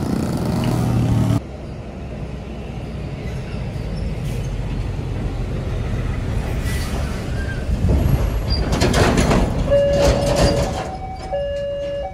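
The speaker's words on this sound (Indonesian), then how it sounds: "Kereta lokal Merak melintas" A Merak local train rumbles past a level crossing in Cilegon, Banten, with a sustained roar and rattling cars, punctuated by a few high metallic squeals from the wheels near the end.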